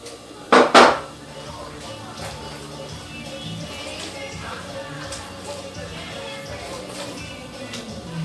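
Five eggs going into a bowl in a home kitchen, heard as a brief double clatter of dishware near the start, then low kitchen rustle and faint background noise.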